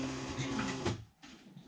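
A Silhouette cutting machine draws in a cutting mat with a steady whirring, buzzing motor and feed noise for about a second, then stops abruptly and leaves a quieter room tone.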